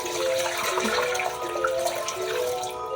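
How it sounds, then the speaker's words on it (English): Water pours steadily into a crock pot nearby, a continuous rushing splash with a slowly shifting tone, loud and unbroken. "So now I'm going to add the rest of the water to cover them up."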